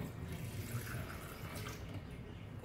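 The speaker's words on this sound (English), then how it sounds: "So I have add water and keep again." Water added to spices for grinding Goan vindaloo masala paste, a soft, steady trickle of pouring liquid that stays faint and even throughout.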